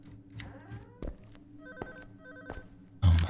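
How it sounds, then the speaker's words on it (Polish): A telephone rings somewhere in a house in a psychological horror video game about a stalker breaking in, its ringing faint and distant between sharp thuds, ending in a loud low impact. "Ten telefon gdzieś tam cały czas dzwoni."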